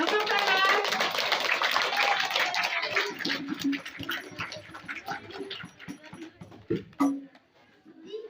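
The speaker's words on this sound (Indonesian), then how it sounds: "Tepuk tangan." Hands clap for a primary school music group at a Maulid Nabi celebration, a fairly close, dense burst that thins out after a few seconds into scattered claps, with a voice and chatter underneath.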